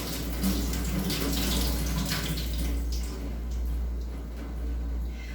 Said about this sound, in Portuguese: lavar em água corrente até remoção de toda a sujidade grosseira da superfície da fruta